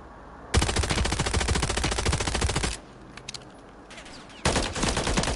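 Close automatic gunfire in the video game Warzone 3: a long rapid burst, a short pause with a few scattered shots, then another loud rapid burst starting near the end.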